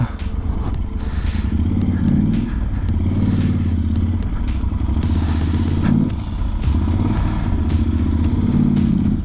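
A heavily loaded Yamaha Ténéré motorcycle labors uphill, its engine droning loudly and steadily with rising pulls, punctuated by clattering, thumps and scraping from the bike and rough ground.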